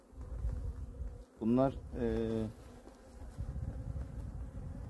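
Honeybees in a hive during February hive inspection hum steadily in the background while a person speaks briefly over the buzzing.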